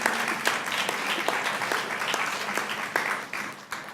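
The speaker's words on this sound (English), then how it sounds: "give yourselves a round of applause" Audience at a student graduation celebration clapping steadily for about four seconds, a moderately loud, dense patter of many hands with a few sharper claps standing out.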